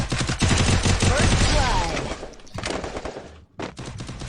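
Video game gunfire with rapid bursts of loud shots, then a sharp pause and a few more, mixed with excited voices talking and shouting about sniper rifles.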